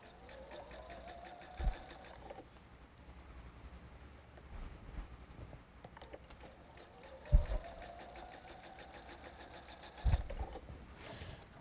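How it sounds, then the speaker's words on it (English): A sewing machine stitching quilt block segments for a nine patch block, running in two steady bursts of rapid, even needle clatter with quiet pauses and small clunks between them. "I'm going to sew until I get near the pin"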